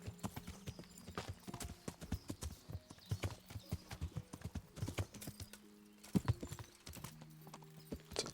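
Horse hooves clip-clop steadily while riding off-road through woods in the medieval game Kingdom Come: Deliverance, a continuous close rhythm of footfalls with brief low rumbles.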